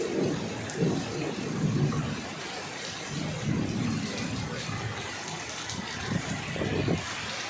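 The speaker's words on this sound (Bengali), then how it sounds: "শুনছেন বজ্রপাতের শব্দ।" Rain pours steadily through a stormy evening thunderstorm while people head home under umbrellas, with low rumbles of thunder swelling and fading every second or two beneath the continuous wash of rainfall, fairly close and moderately loud.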